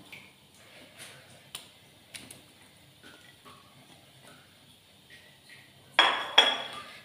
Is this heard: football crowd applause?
no